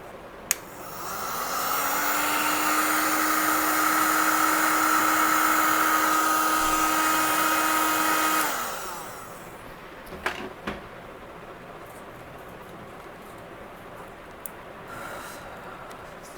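A handheld dryer blows air over a stamped paper craft panel, a steady whirring drone that rises, holds for several seconds and then cuts off, followed by a few small clicks and handling sounds.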